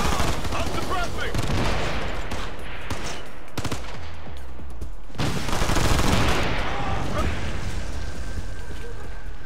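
Heavy sustained suppressing gunfire from an automatic weapon in the video game Ghost Recon Future Soldier, loud dense bursts with booming impacts across the whole stretch, a brief lull midway before firing resumes.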